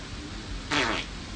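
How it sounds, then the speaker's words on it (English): One short, breathy fart sound effect from a montage in the video game Oblivion, heard over a steady background bed, lasting about a third of a second. "Some of these are the same fart."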